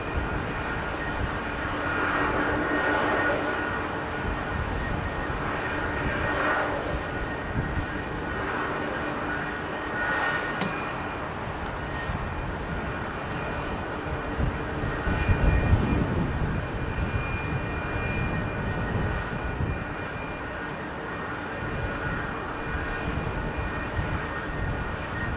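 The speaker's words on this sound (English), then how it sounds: "Great thing is that Air Serbia jet is the only one that's on the" Air Serbia jet engines roar at Heathrow Airport, a broad, continuous rumble and whine that holds steady and loud throughout with a slight surge midway, no voices over it.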